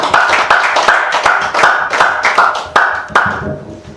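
A lecture-hall audience claps to welcome a guest lecturer onto the stage, a steady run of sharp, close handclaps that carries on for about four seconds and then trails off.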